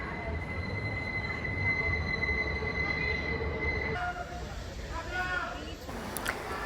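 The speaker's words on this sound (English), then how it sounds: "There is a local 7 train to Flushing Main Street. Approaching the station" A New York 7 local subway train rumbles steadily into a station, its wheels giving off high squeals and screeches as it slows, with a continuous loud roar throughout and a faint announcement tone.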